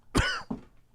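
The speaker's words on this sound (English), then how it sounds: "I was coughing" A person coughs twice, one sharp loud cough followed by a weaker one, close to the microphone in a comedy club setting.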